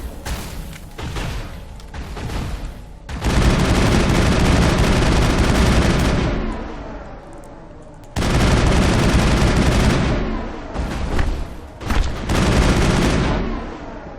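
Dense, loud automatic gunfire from the video game Mass Effect, with long sustained bursts, a pause, then another heavy barrage.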